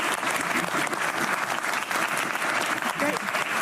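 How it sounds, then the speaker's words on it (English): Sustained, fairly loud applause from a room at a press conference with the Danish prime minister, dense clapping without a break throughout. "we love the applause."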